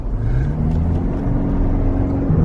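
A 2025 Toyota Land Cruiser speeds up on a road, its engine note rising steadily and holding loud and close from inside the cabin, with no talking.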